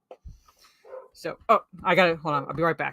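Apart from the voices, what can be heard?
dog barking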